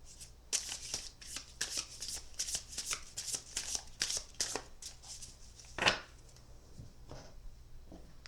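Oracle and tarot cards being shuffled in a close, steady run of riffling bursts, each a soft papery flutter, with one louder snap near the end and a quieter shuffle trailing off.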